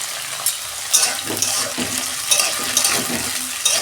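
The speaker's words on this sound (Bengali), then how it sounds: "উচ্ছেটাকে আমি ভেজে নেবো লাল লাল করে 2 মিনিট।" Bitter gourd frying in a pan: a steady close sizzle with stirring scrapes and soft clinks from a utensil, continuous throughout with no talking.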